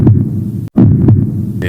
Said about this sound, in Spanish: El latido místico regresó con la fuerza de un motor encendido